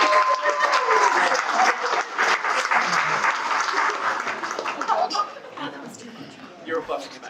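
Wedding reception guests clapping, a loud sustained round of applause with some chuckles and voices mixed in, fading into scattered claps and talk toward the end.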